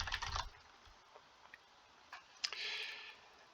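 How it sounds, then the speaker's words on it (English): A name is typed on a computer keyboard while a new user is added in an admin software module: a few faint, sparse key clicks spread across a quiet background. "start typing their name"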